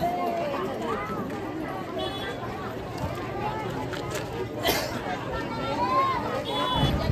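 A busy crowd bustling at the Chirner Mahaganpati temple fair, with steady babble of many voices, footsteps and market stir close around, and people talking nearby.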